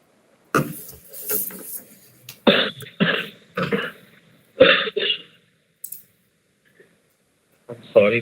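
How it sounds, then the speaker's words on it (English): Several harsh coughs and throat clears in a row, close up, with short pauses between bursts. "I'm sorry for all this cough,"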